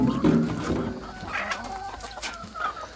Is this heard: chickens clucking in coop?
yes